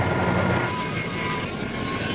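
A Sea King naval anti-submarine helicopter flies past with a steady, continuous engine drone at moderate distance, heard alone without voices.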